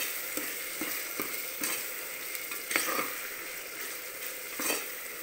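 Slit green chillies sautéing in oil in a pan for veg pulao, a steady close sizzle and frying hiss punctuated by several sharp scrapes and taps of a spatula against the pan.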